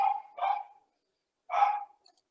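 A pet dog barks at home, three sharp barks close by with a pause before the last, alone with no talking.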